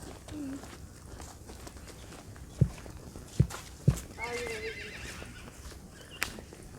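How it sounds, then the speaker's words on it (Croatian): Horses on a Posavina horse farm, a whinny heard over talking, plus a few sharp hoof knocks, close and fairly faint. "To su sve vaši konji."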